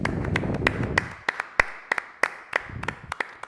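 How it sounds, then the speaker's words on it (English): Scattered claps from a small audience at a chess game's end, irregular and fairly close, with sharp separate hand strikes rather than a dense roar. "applause for both players"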